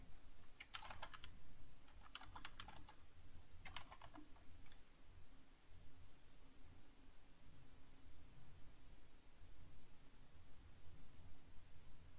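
A computer keyboard clicks out a command in three short bursts of quick keystrokes, faint over a steady low hiss of room noise that continues after the typing stops.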